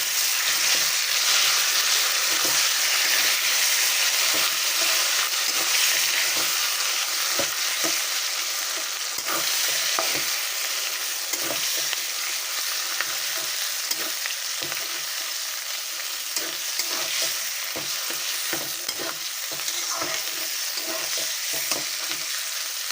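Potato filling and cauliflower hit a pan of browned onions for a cauliflower chop, frying with a loud, steady sizzle broken by repeated scraping stirs, with no talking.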